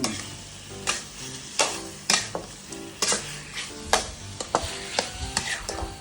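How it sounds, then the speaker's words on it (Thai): Pork cartilage stir-fries with southern Thai curry paste in a pan, a loud close sizzle with frequent rhythmic scrapes and clanks of a spatula against metal, no voices. "ผัดให้เครื่องเข้ากัน"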